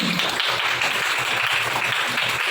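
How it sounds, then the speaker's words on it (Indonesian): Pupils in a classroom applaud after group presentations. The clapping is busy and fairly loud and carries on throughout, with some low background murmur. "Tepuk tangan untuk kita semua."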